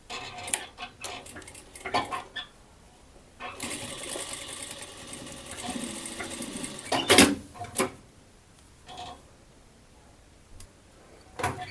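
A sewing machine stitches the waistband of women's trousers in short bursts, with a sustained run in the middle, amid clinks and handling noises close by.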